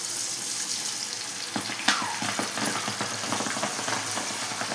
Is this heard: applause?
no